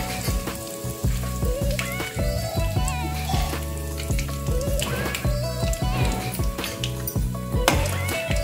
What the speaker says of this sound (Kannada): ಸಾಸಿವೆ ಸಿಡಿಯುವಾಗ ಇದಕ್ಕೆ ಕರಿಬೇವನ್ನು ಹಾಕಿಕೊಳ್ಬೇಕು.